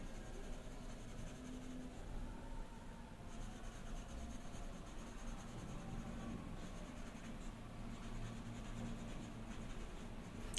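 Short pencil strokes scratch across paper while shading in a manga-style eye drawing: a soft, steady, quiet scratching that runs continuously with no talking.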